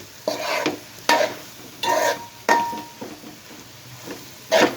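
Amaranth leaves are stir-fried with chili powder in a pan, with about six distinct scraping strokes of a spatula over a low sizzle, evenly spaced and close.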